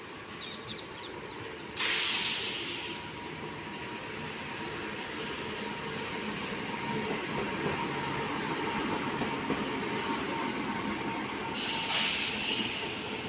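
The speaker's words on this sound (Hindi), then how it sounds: "मगध एक्सप्रेस WAP 7 के साथ" Magadh Express, hauled by a WAP 7 electric locomotive, running through Etawah Junction toward New Delhi: a steady loud rumble of rolling coaches with hissing and bursts of high clatter at the start and end, no talk.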